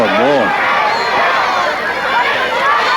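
Crowd noise at a high school football game, Deshler at Cherokee County, a loud continuous roar and chatter from the stands with voices rising over it, a broadcaster's voice prominent near the start.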